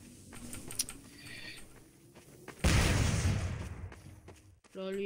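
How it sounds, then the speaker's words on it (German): Explosion in the shooter game Trouble in Terrorist Town: a sudden loud, broad blast that rumbles and fades over a couple of seconds, following quieter game noise and some talk. "wie einfach jetzt schon eine Explosion da war"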